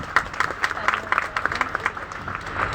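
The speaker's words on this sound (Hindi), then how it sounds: "तालियां बजा दो।" Audience at a Brahma Kumaris Gita pathshala annual day gives a round of clapping, moderately loud with irregular claps and some crowd murmur mixed in throughout.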